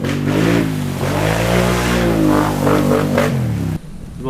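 A Polaris Sportsman 850 XP ATV with an RJWC Mud Edition exhaust revs loudly up close, holding a throaty, rising and falling engine note before cutting off abruptly near the end.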